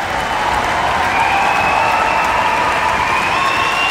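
A concert audience applauds a Dutch student orchestra on tour in a hall, with dense, sustained clapping that stays steady throughout and a faint tone lingering above it.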